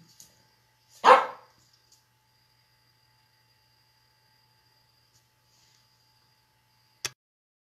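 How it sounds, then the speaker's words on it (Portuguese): A dog barks once at home, a single close, sharp bark after a faint click, followed by quiet and a brief tap at the end. "Tem cachorro."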